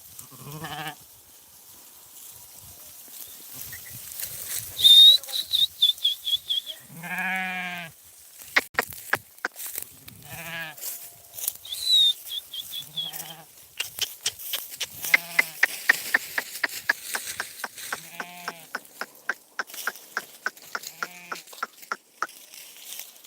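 A flock of sheep bleating as they climb a slope, many overlapping calls near and far, some long wavering bleats and a run of short rapid ones, with faint buzzing of flies.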